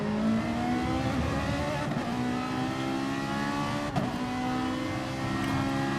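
A GTR race car in a sim racing game, over 600 brake horsepower in BOP spec, its engine droning steadily with rising and falling revs, loud and continuous with no talk.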